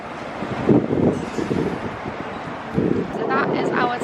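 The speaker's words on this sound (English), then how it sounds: "Very windy here." Gusty wind buffets the microphone at a cruise ship port in Tenerife, a steady roar with stronger bursts, with voices talking over it.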